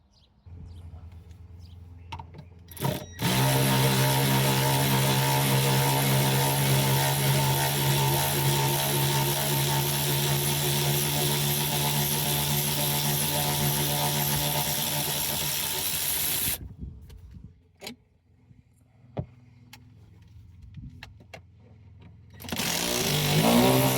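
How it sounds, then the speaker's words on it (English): Electric ratchet whirring steadily for about thirteen seconds while working inside a Range Rover during a subwoofer install, close and loud, then stopping, with a brief burst near the end. "I might be able to use my electric ratchet for this one."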